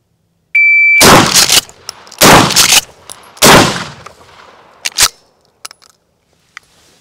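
Several loud shotgun blasts from a Mossberg Shockwave 590, a beep signalling the start, then roughly three booming shots about a second apart, followed by a few fainter clanks of hits on targets.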